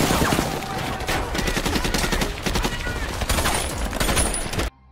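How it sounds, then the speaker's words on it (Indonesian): A war film firefight between marines and enemy fighters, with dense, loud volleys of rapid gunshots and bursts overlapping for several seconds before cutting off abruptly, no clear talking. "Kontak senjata pun dimulai."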